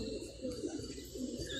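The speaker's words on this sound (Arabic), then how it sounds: "في حمام يا اخوان." Pigeons coo softly in a low, repeated murmur at a rooftop pigeon loft, a few faint rounded calls rising and falling over steady background noise.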